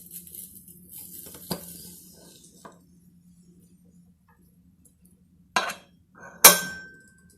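A spoon stirs roasted cashews into peas pulao in a pressure cooker. A few sparse metallic clanks and scrapes against the pot stand out over quiet, faint stirring, ending with a sharp ringing clink.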